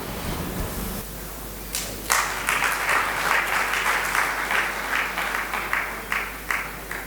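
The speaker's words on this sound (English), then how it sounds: "Can we have again a huge round of applause for Durgesh?" Conference audience gives a speaker a big round of applause, steady dense clapping from a large crowd that swells after a brief lead-in and holds strongly to the end over a low hum.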